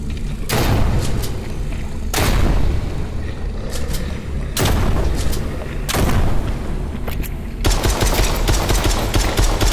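Gunfire in the VR horror shooter Propagation VR comes as loud, close bursts of heavy booming shots, repeated in several volleys separated by short gaps.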